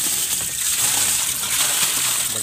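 Water gushes and sloshes out of an Astron single-tub washing machine with a draining fault, a loud continuous rushing flow close by.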